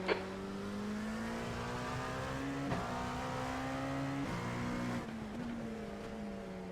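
Race car engines in an IMSA race at Daytona in iRacing, a sustained loud harmonic engine drone with gear shifts and shifting pitch, a sharp click at the start, no talk.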